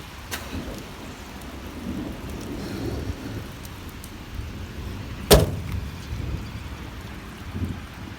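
An April hailstorm with rain hammers down in a steady, dense patter outdoors beside parked cars, broken by one sharp, loud crack of thunder midway and low rumbling underneath.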